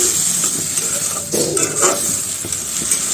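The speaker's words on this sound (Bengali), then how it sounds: "ব্যক্তিগতভাবে টমেটোটা দিই আমার কাছে ভালো লাগে এখন ডালের সাথেও ভালোভাবে কষাবো" Lentils and tomato stir-fried in a pan, a dense hissing sizzle with a few spatula scrapes and clinks against the metal, close and steady throughout.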